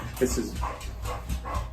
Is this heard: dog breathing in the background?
yes